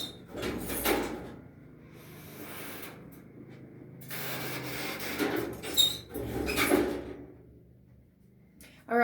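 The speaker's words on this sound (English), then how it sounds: "I'm just going to go and close my door." A bedroom door being pulled shut indoors, heard as a few broadband bumps and knocks with rustling handling noise between them, moderately close and without any talking.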